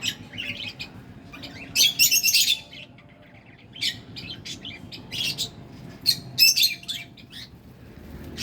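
Several caged pet birds in an evening bird room chirp and squawk close by, with bright bursts of calls and scattered tweets over a soft background hum.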